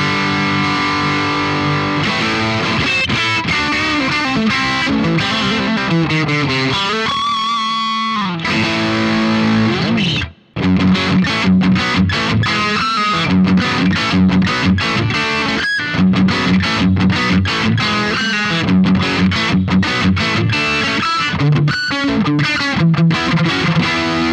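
An electric guitar played through a Boss GT-1000 multi-effects processor's AIRD amp model with the gain switch engaged, giving loud, continuous distorted chords and riffs with a brief stop partway through.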